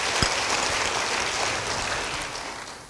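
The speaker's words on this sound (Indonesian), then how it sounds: "beri tepuk tangan bagi dia." A church congregation breaks into steady applause, a dense wash of clapping that stays even for a few seconds and slowly begins to fade.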